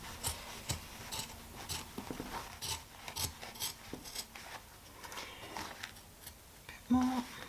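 Scissors snip through fabric while cutting pieces for a tote bag, giving a series of short, quiet, irregular cuts with brief pauses between them.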